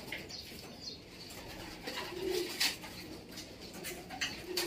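Racing pigeons at a fancier's loft in Bataan coo in low, soft bursts amid a busy backdrop of other bird calls and rustling, with no one talking.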